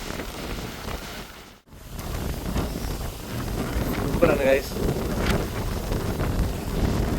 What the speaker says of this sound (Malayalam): ഇടുക്കത്തെ കാറ്റ് ഇടുക്കത്തെ കാറ്റ്